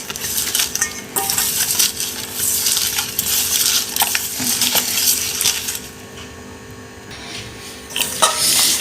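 Boiled cabbage and tomato being mashed by hand with chili and onion for a bharta, producing close, wet squelching and crushing with scattered clicks and knocks against a bowl, continuous and fairly loud, no talk.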